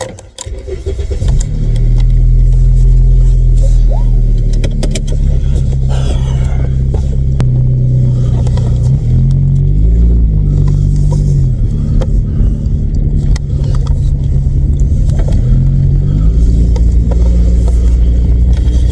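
A VW Vento fresh from a gearbox repair starts and runs, its engine rumbling loud and close. A steady drone rises and falls with a few revs as the car is driven off.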